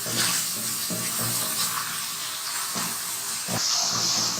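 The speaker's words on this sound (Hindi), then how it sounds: "प्याज को हमने हल्का सा फ्राई कर लिया" Onions frying to light brown in oil for a smoked beef karahi, a steady close hissing sizzle with occasional stirring scrapes and taps, no talking.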